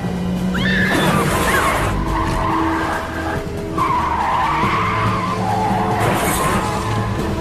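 A car speeds through a chase scene, its tires skidding and squealing loudly and almost without break over a roaring engine, with a brief dip near the middle before the squeal returns.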